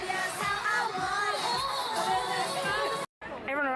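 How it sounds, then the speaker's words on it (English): A packed concert crowd at a summer pop music event in a stadium, voices massed into loud, continuous screaming and shouting with cheering swells; a brief dropout cuts in before the roar resumes. "we were screaming so loud on the floor"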